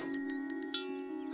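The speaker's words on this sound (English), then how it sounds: "I've got Percy's lucky bell" Percy's lucky bell rings in a Thomas & Friends cartoon, a bright bicycle-style bell struck in about five quick dings over a sustained steady tone, clear and close.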